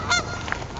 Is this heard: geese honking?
yes